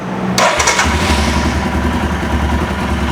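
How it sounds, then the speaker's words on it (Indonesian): A 400 cc single-cylinder Royal Enfield Himalayan motorcycle cranks and fires up, then settles into a loud, steady, low thumping idle close by. "400 cc 1 silinder loh, kita nyalain."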